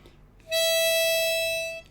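A single sustained harmonica note, clean and steady, held for over a second after a brief quiet start.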